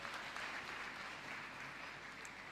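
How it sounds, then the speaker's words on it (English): An audience at a convocation lecture gives a faint, distant, even patter of applause that carries steadily throughout. "I expect us to give him a round of applause for that"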